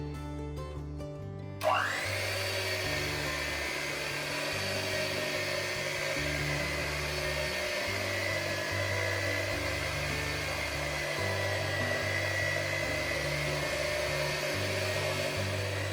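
An electric mixer whirs steadily while beating vanilla cake batter, starting suddenly after a moment of quiet and then running as a continuous, fairly loud motor drone with a slight rhythmic pulse, with no talking over it.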